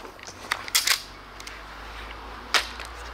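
An Adder repeating crossbow being cocked produces a few sharp, close mechanical clacks, a quick double snap early on and another single clack later, over a quiet room background.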